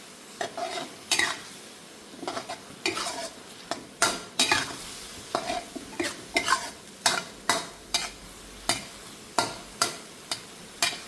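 A metal utensil scrapes and clanks rhythmically in a wok while pad thai noodles stir-fry, sharp regular strokes over a steady low sizzle, close and clear with no talking.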